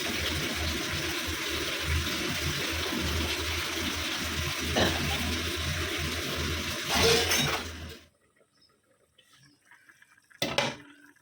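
Kitchen dishes being washed under a running tap, with steady loud water rushing and clattering utensils for about eight seconds, then the flow stops and a single sharp clink of a dish follows near the end.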